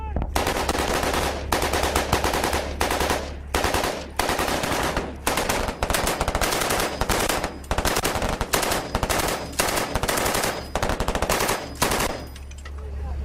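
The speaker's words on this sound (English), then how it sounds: "followed by machine guns and mortars" Machine gun fire in a desert combat zone in Afghanistan, loud close bursts of rapid automatic shots separated by short pauses, repeating for the whole stretch.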